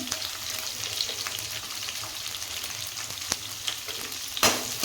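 Carrot, cabbage and onion fry in a pan for shavige bath, a close crackling sizzle with scattered spatula taps and one louder clatter near the end.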